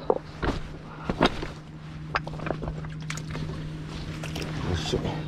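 Low engine hum of a boat passing on the water during bass fishing, steady throughout, with splashes and scattered knocks close by.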